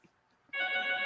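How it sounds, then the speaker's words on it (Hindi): A mobile phone starts ringing midway after a near-silent pause, a steady bright electronic tone that holds loud and close until the end. "मेरा फोन बज रहा है"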